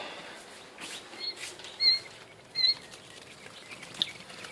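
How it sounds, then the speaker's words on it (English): Quail shuffling in a bird house set up on the floor, soft patters and scratches with a couple of brief bursts of fluttering and a few tiny high chirps, close and quiet. "And here are the quail."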